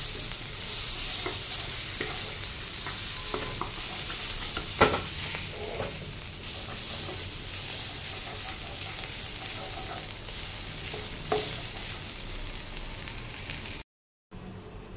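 A potato and raw mango filling for chops is stirred and mixed in a pan, with a steady soft sizzle and scattered scraping knocks of the spoon, close by and without talk.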